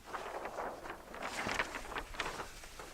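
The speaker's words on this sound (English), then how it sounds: "We have some wind. This is going to be a challenge." Outdoor wind gusting across the microphone in an area with lakes nearby, a continuous rough, breathy rumble that swells and eases from close by, with no voices.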